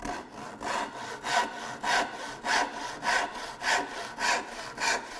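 Rip-pattern handsaw crosscutting wood, steady rhythmic rasping strokes about two per second, close and clear with no talk.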